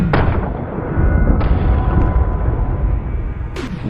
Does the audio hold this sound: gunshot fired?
yes